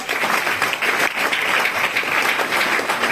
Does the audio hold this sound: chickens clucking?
no